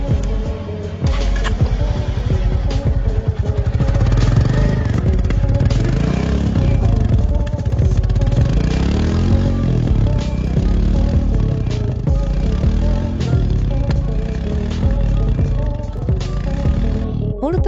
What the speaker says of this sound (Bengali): এই ইঞ্জিন থেকে কিছুক্ষণ পরে ধিক ধিক আওয়াজটি আসে